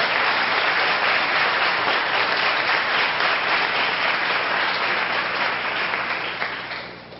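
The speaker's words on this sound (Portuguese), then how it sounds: "Aplausos, Senhor." Congregation applauding during a Portuguese-language church celebration service, a sustained, dense wash of clapping at steady volume that fades slightly toward the end.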